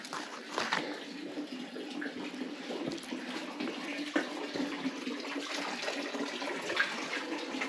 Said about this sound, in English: Seems like a spring here.